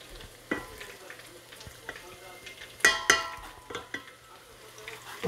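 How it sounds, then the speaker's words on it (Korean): Battered vegetable fritters made from frozen vegetables and flour fry in oil. A soft, faint sizzle runs underneath a few sharp scrapes and clinks from stirring in the pan. "냉동했던 거 갖다가 이렇게 지금 긴 가루만 넣고 이렇게 해가지고 튀길 겁니다."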